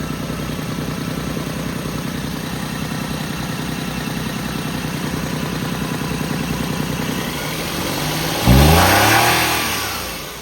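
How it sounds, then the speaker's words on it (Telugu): A 2012 Maruti Alto LXi petrol engine runs steadily with a low rumble, then revs up sharply near the end before easing back down. "ఇంజన్ ఒకసారి ఆన్ చేసి చూపిస్తాను"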